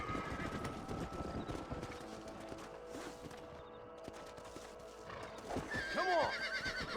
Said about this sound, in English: Este es el mejor caballo del juego.